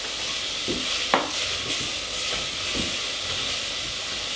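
Lamb browns in a pan for a red kidney bean and lamb tajine. A steady hiss carries through, broken by a few soft stirring knocks and one sharper clack.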